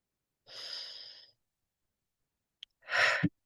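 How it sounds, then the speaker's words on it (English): One slow breath drawn in through the nose and then released out through the mouth, soft and close, with a quiet pause in between. "In through the nose, out through the mouth."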